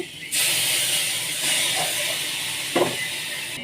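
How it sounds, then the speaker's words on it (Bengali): A spice paste with a little water hits a hot pan alongside partly boiled potatoes, salt and turmeric, giving a sudden strong steady hiss with a brief stirring scrape near the end. "অল্প একটু জল দিয়ে মশলাটা কষিয়ে নিচ্ছি।"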